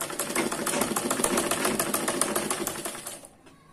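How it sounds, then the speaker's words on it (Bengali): Sewing machine stitching fabric with its thread tension out of adjustment, a loud, fast, steady mechanical whir and tick close by that stops abruptly near the end. "দেখুন আমাদের মেশিনে আমরা সিলাচ্ছি কাপড়, আমি সিলাই দেখাচ্ছি।"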